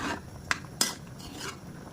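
A spoon scrapes and clinks against a metal pot twice in quick succession, over a soft continuous rubbing of taro in coconut milk being stirred.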